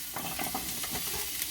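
Chopped onions hit hot oil in a pan for an Italian sauce, giving a steady, close hiss of frying with slight swells and crackles throughout, no voices.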